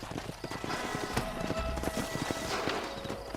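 Several horses walking on a trail in the Red Dead Redemption western game, steady overlapping clip-clop hoofbeats close by at moderate volume, with no talk.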